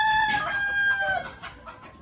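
Chickens in a fight, with a loud nearby rooster crow at the start followed by a few short clucks and squawks fading out.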